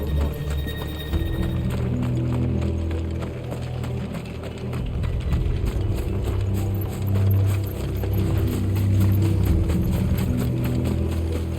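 Horses gallop in the video game Final Fantasy XVI, a continuous rhythmic clatter of hooves under a low musical and ambient game bed, fairly even in loudness and with no talk.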